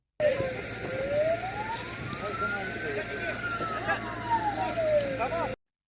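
Fire engine siren wailing in a slow rising and falling sweep, steady and fairly loud throughout, as crews respond to a wildfire, with a low rumble underneath.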